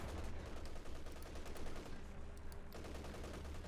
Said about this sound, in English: Light infantry gun there firing away.